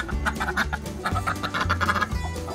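A fowl clucking and scuffling as it fights with a duck in a backyard farm, repeated low clucks and rough bursts of activity close by, with steady bird noise throughout.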